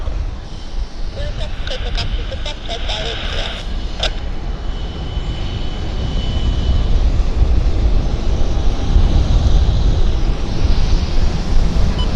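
A heavy jet departs Vancouver Airport with a broad, continuous roar that swells louder and fuller as the aircraft climbs out. The roar stays steady throughout, with a thin whine riding high above the rumble.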